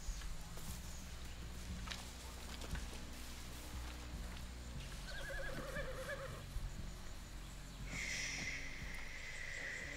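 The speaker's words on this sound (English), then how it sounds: "Soldados train their horses in these woods." Horses in the Far Cry 6 video game whinny and neigh in a wooded area where soldiers train them, with a few high calls rising over a steady low rumble of ambience and hoof movement, moderately near.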